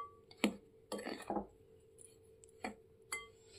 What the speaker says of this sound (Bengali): এবার খুব ভালো করে মিশ্রণটাকে আগে শুকনোভাবে ভালো করে মিশিয়ে নেব